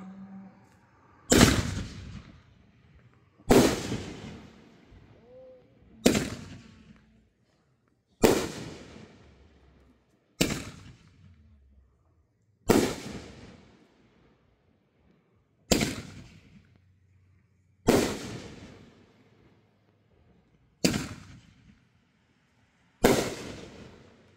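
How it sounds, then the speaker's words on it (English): A Mother of All Bombs fireworks cake is set off outdoors. About ten loud, sharp booms go off at steady intervals of roughly two seconds, each one ringing out briefly before the next. "Alright, I'm gonna light Mother of All Bombs, then Fury Road."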